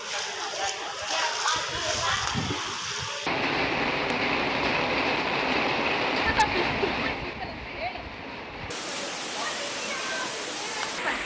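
Floodwater splashing and rushing through low-lying Bengaluru streets after heavy rain and strong wind, a loud continuous wash with abrupt shifts between scenes, under a narrator's voice.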